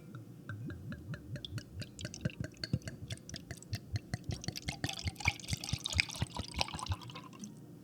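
Passion fruit wine cocktail poured into glasses, a steady liquid trickle with irregular drips and splashes that fill the whole stretch at close range, no talk over it.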